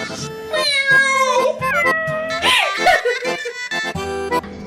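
A voice imitates a cat meowing, giving several short, rising and falling meows in quick succession, close and fairly loud.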